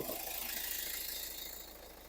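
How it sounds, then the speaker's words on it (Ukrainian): A 2013 Hyundai ix35 diesel engine idling under the open bonnet, a steady, even mechanical hum with a faint rattle, close and continuous with no voices. "Як бачимо, двигун працює рівненько"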